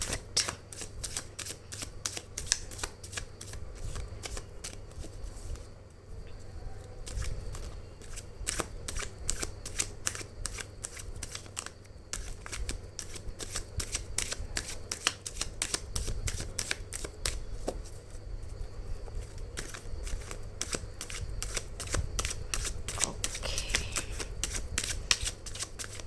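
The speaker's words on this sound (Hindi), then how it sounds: "चलो शफल कर देते हैं।" Tarot cards are shuffled over and over, close to the microphone, in a long run of crisp riffling and flapping bursts that keep up an uneven rhythm, with no speech over them.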